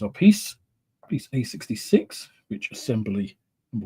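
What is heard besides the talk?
No everyday noises stand out.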